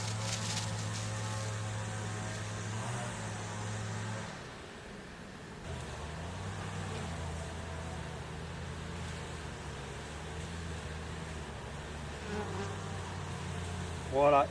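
Honeybees buzz steadily around an opened beehive colony at the end of the beekeeping season, a dense continuous hum with no talk, dipping briefly midway before swelling again.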